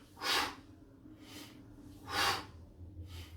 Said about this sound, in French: Soufflez en descendant, inspirez en montant. Soufflez, inspirez, soufflez, inspirez.